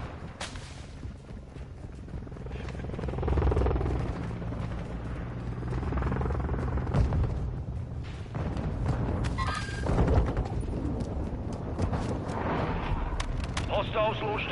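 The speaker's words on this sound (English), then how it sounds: "Friendly Overwatch helo entering the AO" Overwatch helicopter arriving in Modern Warfare 2 multiplayer, its rotor thrum building under continuous gunfire, explosions and booms, with game voice callouts heard over the battle noise.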